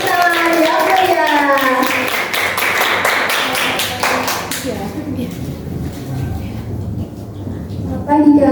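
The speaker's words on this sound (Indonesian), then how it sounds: "Beri tepuk tangan ya Faya" Students clap for Faya, a twelfth-grade first-place poetry reading winner, at a school assembly; rapid clapping fills the first half and fades under talking voices and chatter.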